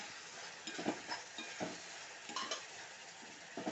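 Quiet, close stirring of ripe-tomato pickle in a pan, with soft wet sizzling and a handful of scraping strokes and light spoon clinks against the metal, no talking.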